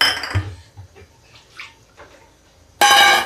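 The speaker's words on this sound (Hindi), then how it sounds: "थोड़ा पानी डाल देते हैं" Water poured into mung dal cooking in a pot, heard as a short splashing burst at the start and another at the end, with faint clinks of utensils between.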